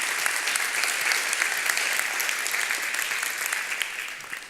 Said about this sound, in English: I want us to give a big round of applause for Geekhubs and Alpha Tech.